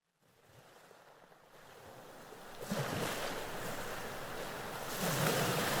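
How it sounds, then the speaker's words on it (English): Ocean waves swell and crash in a broad, hissing surge, starting faint and building to louder breaking surf with wind-like rushing, continuous and with no voices, as seaside ambience for a fantasy tabletop game. "So some nice waves."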